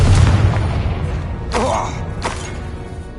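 Confringo spell explosion in Hogwarts Legacy, a deep booming rumble that fades, followed by two sharp whooshing impacts in a fantasy combat scene.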